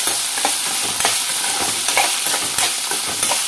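Nalleru (veldt grape) fries in oil in a pan over low heat, giving a steady close sizzle with repeated soft stirring scrapes and no talking.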